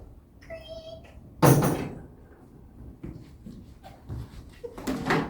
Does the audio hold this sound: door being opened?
yes